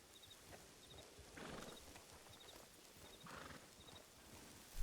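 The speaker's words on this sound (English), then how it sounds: "That's a wild horse." A wild horse runs as a sound effect in an audio western story: repeated hoofbeats clip-clop at a gallop, with whinnying swelling up twice and some faint chiming in the background.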